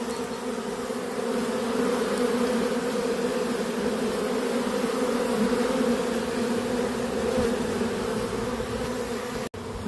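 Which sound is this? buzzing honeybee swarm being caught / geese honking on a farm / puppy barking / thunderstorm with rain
buzzing honeybee swarm being caught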